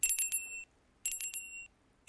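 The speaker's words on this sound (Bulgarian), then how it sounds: "мога ли да закача камбаната на него?" Small bell hung on a bear in a video game, ringing in two short bursts of rapid jingling strikes, each ending in a brief ringing tail, clear and close with silence between.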